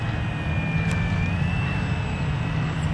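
An airplane flies past, its engine a steady, continuous drone with a low rumble that holds level and fairly loud from start to finish.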